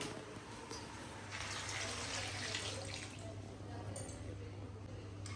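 Running water pours steadily into a cooking pot for several seconds, a continuous splashing hiss close by, with a low hum underneath.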